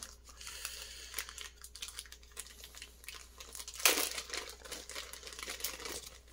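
A single sharp crinkling tear as an X-Acto knife slices open the plastic packaging of a mini pocket-size Ghostbusters PKE meter, with soft scraping and rustling of the package before and after.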